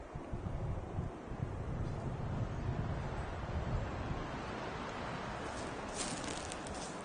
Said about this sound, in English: The wind is still kicking up